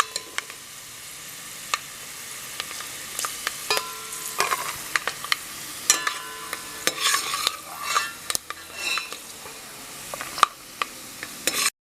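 Ingredients sizzle and crisp in hot ghee for payasam, a steady frying hiss broken by repeated clinks and scrapes of a spoon stirring in the pan, close and without talk.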